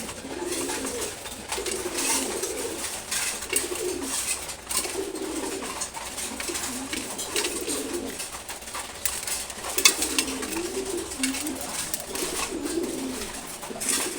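Male pigeons in a loft cooing in repeated low, throaty bursts, several birds overlapping in a steady rhythm at moderate distance, with no talk over them.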